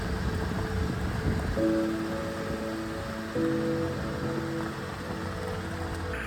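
Steady rain falls on a forest trail in the Verdon region of France, a dense continuous patter and hiss with no talk, heard during a winter 4x4 expedition.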